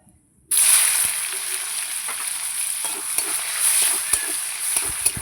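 Chopped onion sizzles loudly in hot oil in a pan, starting abruptly and holding a steady, close frying hiss with occasional stirring clicks, for a quick prawn and vegetable curry.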